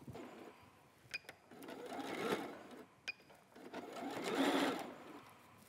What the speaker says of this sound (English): put it right under my sewing machine, finish it off